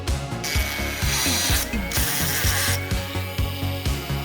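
A mini drill bit bores a hole through a printed aluminum Coca-Cola can sheet, giving loud, repeated grinding bursts with a mechanical ratcheting rhythm throughout.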